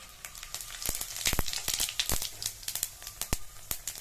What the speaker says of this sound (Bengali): তেলটা গরম হয়ে গেছে ধোয়া উঠতে শুরু করেছে এখন আমি এতে ফোড়ন দেব শুকনো লঙ্কা আর গোটা জিরে